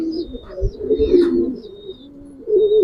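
Giribaz flying pigeons coo softly nearby in low, rolling, throaty calls, one after another, with faint chirps in the background.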